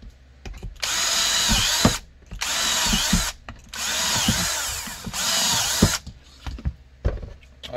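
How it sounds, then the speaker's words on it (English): An electric drill bores holes, running in four steady whirring bursts of roughly a second each, separated by clicks and handling knocks, fairly close with no talk. "now that these holes are drilled"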